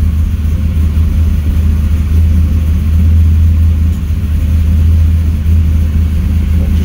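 A car engine idles close by with the air conditioning switched on, giving a loud, steady low rumble that stays even throughout with no pauses.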